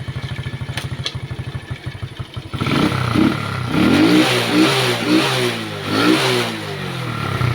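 A motorcycle that would not run after washing cranks with a rapid chugging starter, then catches and revs loudly in several rising and falling surges up close.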